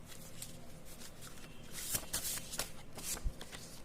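A deck of tarot cards is shuffled by hand in quiet, close, rapid riffles and soft slaps, with a few sharper snaps near the end and no talking.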